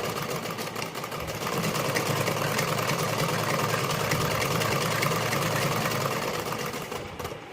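A sewing machine stitches along the edge of a blouse, running in one steady, fast, whirring burst for several seconds before slowing near the end. The sound is close, with no voices.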